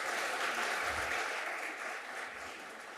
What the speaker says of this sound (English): I think we all like applause.